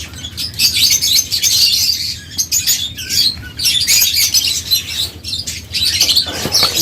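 A flock of caged breeding lovebirds and budgies keeps up continuous shrill squawks and rapid chirps nearby, punctuated by occasional wing flaps, with no voices.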